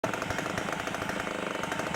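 A Suzuki X4 125 motorcycle engine runs with no exhaust fitted, making a loud, rapid, harsh staccato rattle of closely spaced pops at a steady idle.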